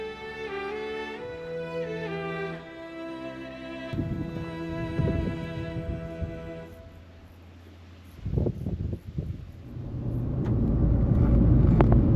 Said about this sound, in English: This is what it's like driving the narrow roads of Ireland.